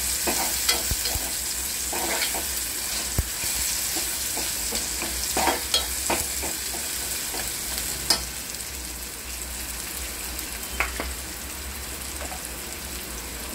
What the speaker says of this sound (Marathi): आपला कांदा भाजत येत आहे।